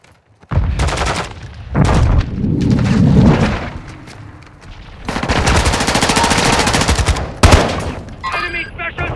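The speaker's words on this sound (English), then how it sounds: "Taking effective fire!" Gunfire in the video game Call of Duty Modern Warfare 2: heavy automatic bursts and rapid rattling fire with booming thuds, loud and close, mixed with shouted voices during the firefight.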